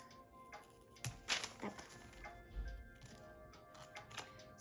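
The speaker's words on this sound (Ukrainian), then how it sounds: "відкриємо пакетик." A paper surprise packet is opened: crinkly paper rustles and crackles up close in short, irregular bursts, with small taps and handling noises in between.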